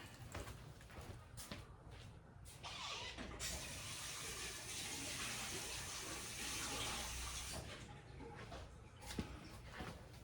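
A tap runs into a sink or cup, a steady gushing splash of water that starts after a few clicks and knocks and keeps flowing for several seconds before easing off, with a faint background hum.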